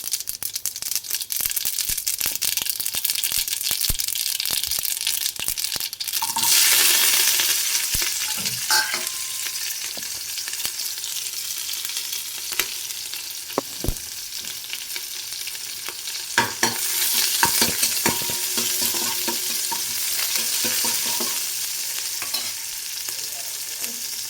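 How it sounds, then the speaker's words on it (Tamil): Mustard seeds, small shallots, green chillies and curry leaves are tempered in pure sesame oil for a country chicken curry, making a loud, continuous sizzle with crackles and stirring scrapes, swelling midway, with no speech. "சுத்தமான நல்லெண்ணெய். கடுகு, தாளிப்புக்கு 2 சின்ன வெங்காயம், 2 பச்சை மிளகா, கருகாப்பில்,"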